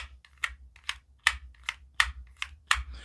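Sharp plastic clicks snap repeatedly from the spring-loaded camera slider on a Galaxy S23 Ultra case, in an uneven rhythm, roughly two or three per second, close and fairly quiet, with a low hum beneath.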